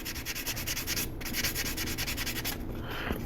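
Sandpaper rubs lightly over primer on a 3D-printed quarter-scale figure in quick, even back-and-forth strokes, a close, continuous dry hiss with brief pauses.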